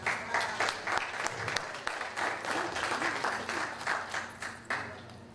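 A lecture crowd in Jacksonville claps continuously, a moderately loud, dense wash of hands beating together throughout the few seconds with no pause.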